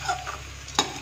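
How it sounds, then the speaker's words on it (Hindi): Food roasting in a hot pan for a puffed-rice poha snack, a steady close sizzle with a spatula scraping and stirring throughout and one sharp scrape near the end. "एक मिनट तक इसी तरह से हम भून लेते हैं"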